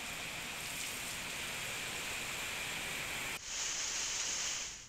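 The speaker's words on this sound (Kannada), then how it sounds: "ರಾಜಧಾನಿಯಲ್ಲಿ ಕೃತಿಕಾ ಮಳೆ ಅಬ್ಬರ ಜೋರಾಗಿದೆ." Heavy rain pours down in Bengaluru as a dense, unbroken hiss that dips for a moment partway through, then resumes just as strongly.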